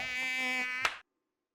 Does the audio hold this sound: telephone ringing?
no